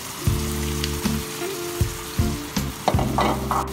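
Vinegar poured into a hot pan of stewing fish crackles into a loud, continuous sizzle, with repeated surges as the liquid hits the heat and a sharper spattering flare toward the end.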